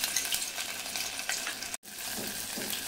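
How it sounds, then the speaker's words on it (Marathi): Ginger-garlic paste frying in two spoons of hot oil in a cooking pot gives a steady crackling sizzle, close and constant, broken by one sharp cut near the middle before the sizzle resumes. "आता पातेल्यामध्ये मी 2 चमचे तेल गरम करत ठेवले. त्याच्यामध्ये 1 चमचा आलं लसूणची पेस्ट टाकायची."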